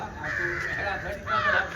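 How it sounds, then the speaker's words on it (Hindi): House crows cawing outdoors, two or three birds giving harsh repeated calls at moderate distance, mixed with a voice talking over them and rustly background noise. "बीच में देखलिए दू तीन टा कार कौआ छले"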